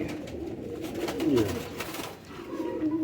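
Patti wala cross pigeons coo in a loft, low rolling calls swelling and fading close by over a steady murmur of background noise, with no speech.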